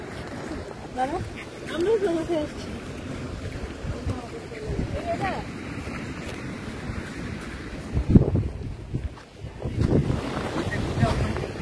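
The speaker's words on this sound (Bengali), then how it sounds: "আমরা তো ট্রলারে আসছি।" A trawler crosses the open sea toward Chhera Dwip, with engine and hull noise, waves washing past and gusts of wind buffeting the microphone, while people talk close by.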